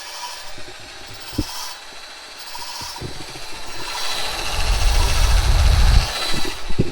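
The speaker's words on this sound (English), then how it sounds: "that's basically what valve lapping is" Valves are lapped by hand into Chevy LS cylinder heads, giving a gritty, rhythmic rubbing and scraping in short repeated strokes. Light taps come through, and the grinding grows louder and fuller toward the end.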